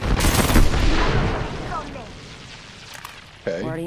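Bursts of video-game gunfire crack loudly at the start and fade into a rumbling tail, followed by a short sharp sound near the end, with players talking over the action.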